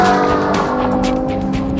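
A high-performance car engine revs hard and close, a loud, harmonic-rich roar with sharp rising bursts that carries on without pause through the short moment.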